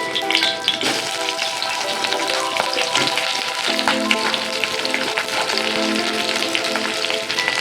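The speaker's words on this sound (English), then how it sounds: "Now I will fry this cabbages." Cabbage frying in a pan after lightly fried potatoes gives a steady close sizzle with frequent sharp taps and spattering crackles throughout, fairly loud and with no one talking.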